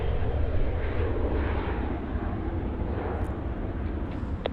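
An airliner takes off at Los Angeles airport, its jet engines a loud, steady roar that holds nearly constant throughout, close and continuous with no voices.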